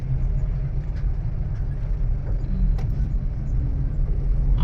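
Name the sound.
car driving on national highway NH65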